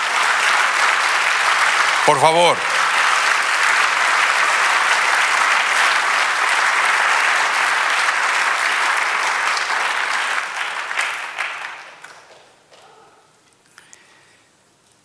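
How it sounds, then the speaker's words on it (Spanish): A church congregation claps loudly and steadily for a long stretch, with a brief spoken request rising over the noise, before the applause thins out and fades to scattered claps. "Si le va a aplaudir, hágalo bien."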